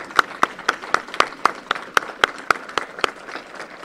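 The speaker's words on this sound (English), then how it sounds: "to please stand as well so we can give them a round of applause" Applause from the audience at an annual advocacy awards program as staff stand for recognition, a steady run of sharp claps sounding through the hall, with no talk over it.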